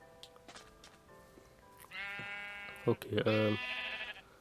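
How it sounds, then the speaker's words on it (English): Sheep in a Minecraft farm on PS Vita bleat twice in quick succession, a pair of clear synthetic bleats over quiet game ambience, followed by a brief spoken word. "Stupid little sheep."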